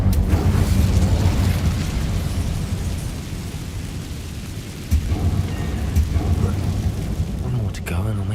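An Incendio fire spell cast in the Hogwarts Legacy video game makes a loud, dense roaring rumble with crackling bursts, part of a busy game soundscape.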